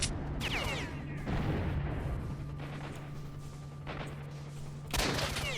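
Rocket launcher blasts and gunfire in STALKER: Shadow of Chernobyl, with several sharp explosive bursts and cracking shots scattered across the clip over a steady low game hum.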